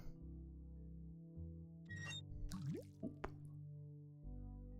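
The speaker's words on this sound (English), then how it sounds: "Water." Water drips and splashes in the Day of the Tentacle video game, a few distinct drops and a liquid plop over a quiet steady musical hum, no talk.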